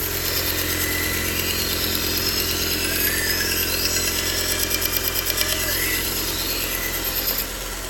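A dry felt belt sharpener works the edge of a Mac Japanese knife, its motor giving a steady, close whirring drone that runs continuously and drops off abruptly just before the end.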